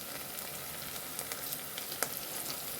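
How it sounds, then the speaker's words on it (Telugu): Green chillies and onions fry as a tempering in oil, giving a soft, steady sizzle dotted with small crackles and occasional sharper pops. "కొద్దిసేపు తాలింపు ఫ్రై అయింది."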